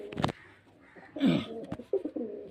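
Domestic pigeons kept for sale cooing close by, with several low, throaty coos in short bursts and a brief flutter of rustling between them, faint background noise underneath.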